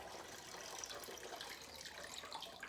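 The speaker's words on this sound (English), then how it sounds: "you're just going to fill it with your water" Tap water pours steadily into the reservoir of a LITBOOS countertop portable electric ice maker, a continuous rushing splash with no talking.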